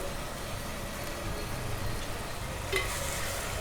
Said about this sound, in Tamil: இது நல்லா எண்ணெய் பிரிஞ்சு வதங்கட்டும்